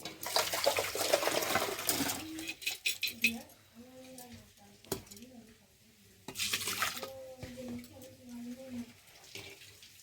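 Liquid is poured into a cooking pot while making bhaja pithe, giving two splashing, gushing bursts separated by a quieter stretch, with voices talking nearby.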